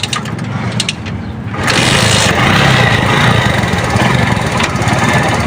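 A GD 110 motorcycle runs on a road test, its engine starting quietly and then swelling after about a second and a half into a steady, loud, buzzing drone that holds close by to the end, with no talking.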